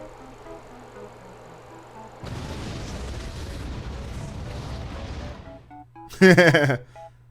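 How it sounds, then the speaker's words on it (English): Rocket launcher fire in Ratchet & Clank: Going Commando, a dense roaring burst of explosions lasting a few seconds over game music, followed by a louder, sharp blast near the end. "This is the test of the mini rocket gun, the rocket launcher from Ratchet Clank going Commando."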